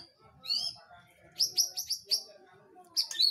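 Bright, clear white-rumped shama song near the listener, a caged bird indoors: quick rising whistles, then a run of sharp repeated chirps and a final burst, over a faint low background.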